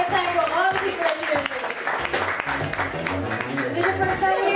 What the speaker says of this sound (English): You gotta clap for all the people